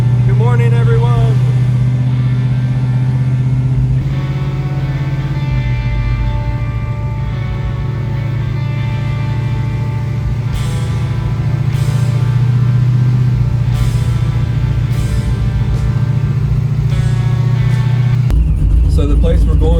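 A procharged 1968 Chevrolet Nova's engine runs loud and close, a steady low rumble that swells as it revs and pulls away while driving.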